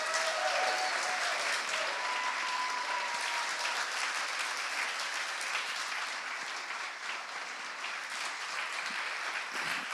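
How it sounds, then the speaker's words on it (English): A roomful of people at a Law Society admissions ceremony gives a sustained round of applause for newly admitted solicitors, thick and even, tapering slightly toward the end. "give one big final round of applause for our newly admitted solicitors"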